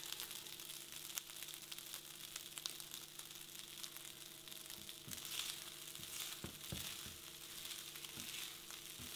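Risotto rice in a pan is scraped and stirred back and forth with a spoon, giving a soft continuous sizzle broken by scattered light clicks and scrapes, close and quiet with no talking.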